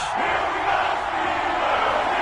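A stadium crowd in an EA Sports football video game, Tennessee Titans against Pittsburgh Steelers, cheering as a loud, steady roar of many voices that stays constant throughout.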